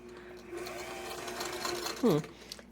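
A motorized Singer 27 sewing machine running at a moderate stitch length, a steady whirring hum close by with a voice speaking over it and a brief louder whine near the end.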